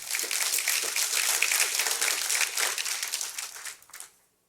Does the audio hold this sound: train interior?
no